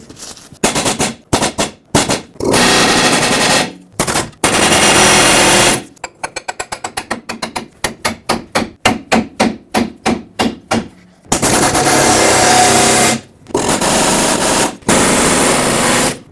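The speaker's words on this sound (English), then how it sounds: "I'm going to use an air chisel and just chisel in the same area, or hammer, I should say, in the same area till this breaks free" A pneumatic air chisel hammers a seized track bar ball joint on a 2011-2016 Ford F-350 in loud, close bursts of rapid pounding, with one stretch of fast individual strikes between longer continuous runs.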